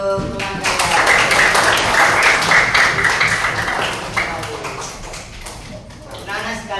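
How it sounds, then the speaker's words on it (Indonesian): Classroom applause from a group of schoolchildren, a dense spread of small hands clapping steadily for several seconds, thinning slightly toward the end, with voices mixed in. "Beri tepuk tangan untuk teman"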